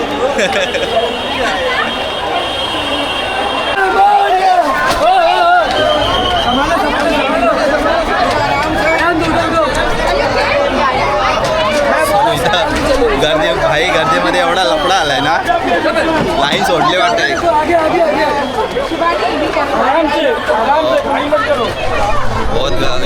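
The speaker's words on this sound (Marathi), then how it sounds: "जाम खराब गर्दी आहे ना" Dense crowd babble at a Ganpati darshan in Mumbai, many voices chattering loudly and continuously all around, with nearby people talking over the din.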